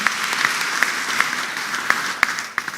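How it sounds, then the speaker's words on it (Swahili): A congregation at a Kikuyu church service gives steady applause for the preacher, a sustained wash of many hands with a few sharp, louder claps standing out nearby. "Tupigie mhubiri wetu Joyce makofi mazuri tena."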